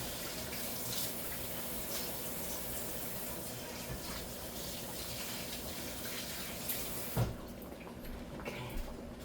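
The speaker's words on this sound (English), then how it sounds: "Let me wash my hands." A kitchen tap runs steadily while hands are washed beneath it, a continuous close splashing gush that eases off near the end.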